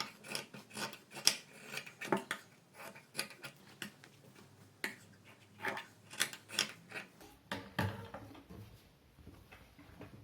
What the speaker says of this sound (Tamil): எக்ஸ்ட்ரா இருக்க பீஸ்களை வந்து கட் பண்ணி விட்டுறணும்.